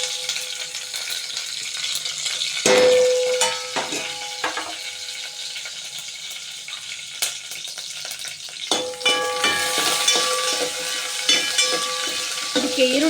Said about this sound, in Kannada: ಇದಕ್ಕೊಂದು ಒಗ್ಗರಣೆ ಹಾಕೋಣ